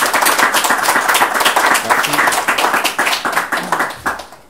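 An audience at a youth project presentation claps in a lively, dense burst of hand claps that stays strong, then thins and tapers off near the end.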